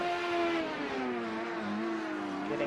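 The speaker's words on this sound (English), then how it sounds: "We can hear a car powering in behind him." A race car engine in a racing video game at Laguna Seca drones steadily with a rising and falling whine as it powers along, loud and continuous, no voices.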